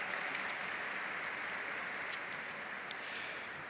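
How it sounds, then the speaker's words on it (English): Outdoor crowd applauding at a San Francisco Lunar New Year celebration, a steady wash of clapping at a moderate distance with a few sharper claps standing out. "Yes, round of applause."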